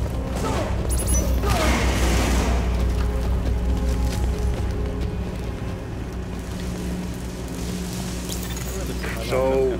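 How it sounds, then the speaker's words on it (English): Gunfire and booms in Tom Clancy's The Division, set in lower Manhattan, rattle through the first seconds over a steady low engine-like drone, then fade, with voices talking over the game's constant background rumble. "That shooting, that was you"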